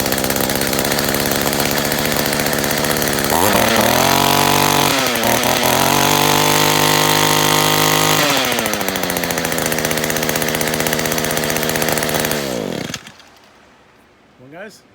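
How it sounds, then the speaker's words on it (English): An Echo weed eater's two-stroke engine cold-starts after a carburetor rebuild and runs loud and close for about twelve seconds, with revving that rises and falls before it cuts off. Faint sound follows. "All right, let's give it one more cold start."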